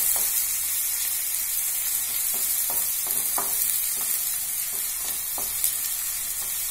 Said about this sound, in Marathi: लसूण टाकल्यानंतर आपण त्याच्यामध्ये टाकणार आहे कांदा. हे चांगलं परतून घेणार आहोत आपण.